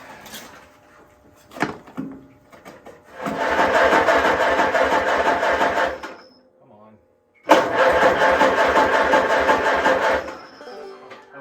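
An IH Farmall Super A tractor engine cranks and roars in two loud sustained bursts of about three seconds each, separated by a brief silent pause, with a few clunks before the first burst.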